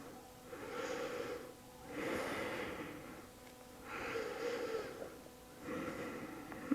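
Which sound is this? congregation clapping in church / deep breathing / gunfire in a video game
deep breathing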